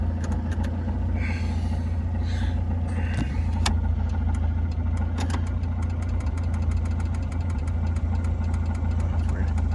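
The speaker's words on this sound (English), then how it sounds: "Idle's not quite as smooth as I normally would like it." A 1983 Mazda B2000 idles roughly after a Weber carburetor swap, a steady low engine rumble with slight unevenness running close and continuous throughout, with faint clicks and a few small ticks over it.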